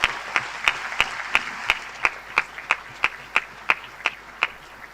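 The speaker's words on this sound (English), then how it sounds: "Please give them a round of applause" Delegates at the WTO's 14th Ministerial Conference applaud the ministers, with sharp, evenly spaced claps standing out in a steady rhythm over a soft background murmur of the hall.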